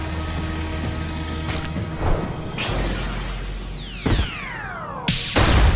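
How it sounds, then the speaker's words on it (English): Toxicroak's Draining Punch breaking a lock in a Pokemon battle: a few sharp smashing impacts separated by whooshing sweeps, each crash sudden and loud over a steady rumbling background. "The draining punch breaks the lock while restoring stamina."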